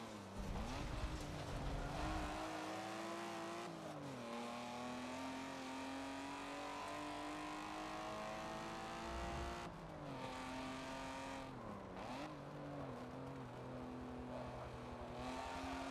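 In Forza 7, a race car's engine drones steadily at moderate volume, its pitch sagging briefly at a few gear changes before settling into a long sustained howl.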